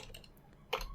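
Typing on a computer keyboard that has run-down batteries makes a few soft, sparse clicks, then a brief louder tap burst near the end. The room is otherwise quiet and no one speaks.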